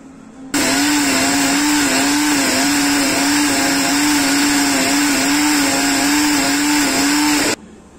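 Mixer grinder running steadily for about seven seconds, grinding a cooled masala paste for kurma bhaji, with a loud constant motor whine that starts and stops abruptly and no talk over it.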